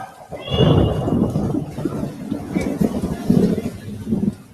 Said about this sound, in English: So we hear storm clouds rumbling